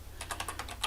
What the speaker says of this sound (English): Typing Chinese symbols is not the easiest thing for us gringos.